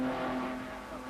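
A Triumph Spitfire race car at Le Mans, a brief steady engine drone with a strong low tone, fairly faint and distant, no talk.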